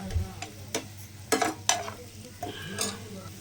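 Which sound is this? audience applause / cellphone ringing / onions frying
onions frying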